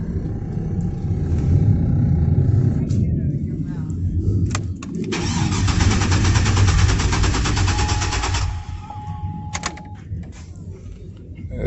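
A 2006 Chevrolet Trailblazer SS with an intermittent no-start cranks over for a few seconds, a rhythmic pulsing churn of the starter, set against steady engine-bay rumble with a voice nearby.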